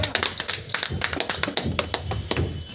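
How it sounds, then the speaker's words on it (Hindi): Scattered hand claps from a small audience at a ritual book unveiling in Anantnag: sharp, irregular, fairly close slaps with no voices over them. "तालियां"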